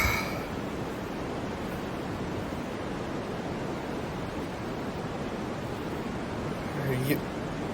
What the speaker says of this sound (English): Oh, it's just my white noise.